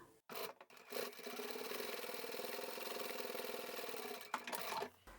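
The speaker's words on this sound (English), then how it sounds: "just a quick stitch straight across the straight edge" Sewing machine top stitching straight across the edge of fabric for a foldable shopping bag, a steady continuous mechanical whir running close and loud for several seconds, starting and stopping abruptly.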